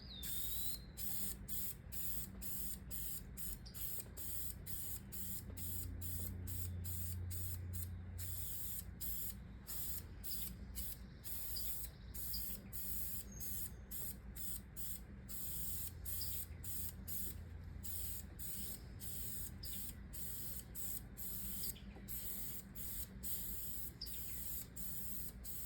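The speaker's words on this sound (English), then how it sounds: "I'm going to hold my sprayer back just a little farther this time because I want to get a much lighter" A spray gun held back from leather car seats mists on a light coat of leather colorant in a steady hiss broken by rapid regular trigger pulses, close and continuous with no talking.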